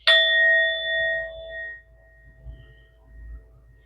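A bell is struck for energy clearing, giving a clear ringing tone that sustains and fades; a second, softer strike follows before the first dies away, against quiet background.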